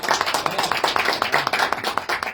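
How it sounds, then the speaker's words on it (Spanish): A few people clap in a radio studio for a visiting punk band, close and fairly loud, a quick uneven patter of individual hand claps over a couple of seconds. "Un aplauso para los muchachos."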